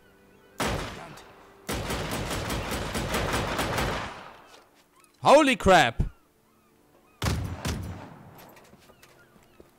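Gunfire in the video game Just Cause 3 comes in loud bursts: a short shot, then a long rapid volley, a brief sharp blast and a final burst. A man exclaims once in between.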